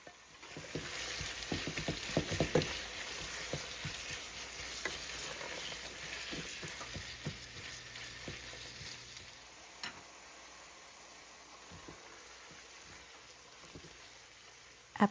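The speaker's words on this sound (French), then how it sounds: "Cassez les gros blocs de viande, puis ajoutez le trio de légumes, oignons, céleri et carottes." Ground meat fries in a pan with onions, celery and carrots, a steady close sizzle broken by clattering stirring strokes that are busiest early on, then a quieter hiss.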